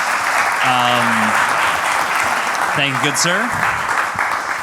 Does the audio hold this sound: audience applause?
yes